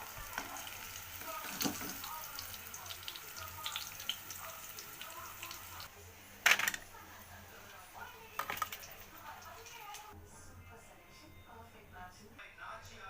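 Raw plantain slices fry in a pan with a steady oily sizzle and occasional clinks and scrapes as they are turned, while someone talks over the cooking.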